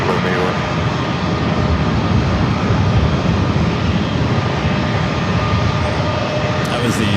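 Jet airliner on the Chicago O'Hare flight at San Diego airport, a loud, steady, close engine roar that fills the whole stretch, with a voice talking underneath.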